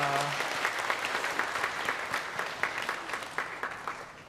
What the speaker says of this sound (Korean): 우리 박수로 한번 축복해 주시기 바랍니다.